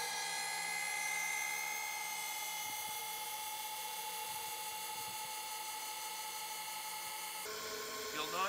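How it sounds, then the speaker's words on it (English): Linear actuators on a Promaster van bed lift hum steadily as the bed lowers, a continuous whine with a faint shift in tone near the end. "And we're gonna bring our bed down."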